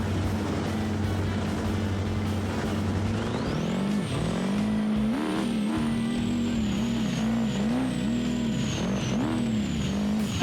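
A Clifford D-Series truck launches at the mud drags in BeamNG, holding a steady idle rumble before its engine revs hard and climbs through a long, loud run, close and continuous throughout.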